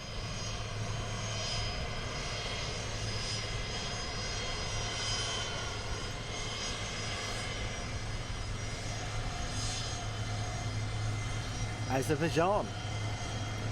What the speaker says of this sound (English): as he's taxiing in, we have another inbound aircraft